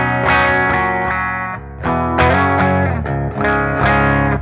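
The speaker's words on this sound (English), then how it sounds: "This is how it sounds straight into the Super Kraken, gain just below 12 on a clean." A 1971 Gibson Les Paul Custom with humbuckers, played straight into a Super Kraken pedal on a clean setting with the gain just below 12 o'clock. Loud, full phrases of chords ring out with a brief pause midway, and no talking.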